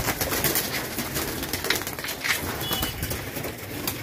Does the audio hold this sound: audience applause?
no